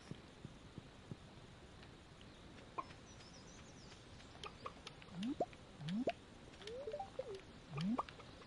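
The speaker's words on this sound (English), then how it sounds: "There's like that, these chickens." Chickens cluck in the farming video game Stardew Valley, giving several short rising calls in the second half over a quiet background of faint game sounds.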